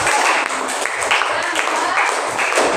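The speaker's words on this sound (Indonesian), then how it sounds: "Bagus, tepuk tangan untuk yang kelompok." Clapping from a primary school class applauding a student group during a civics lesson, a steady dense patter of many hands filling the room throughout.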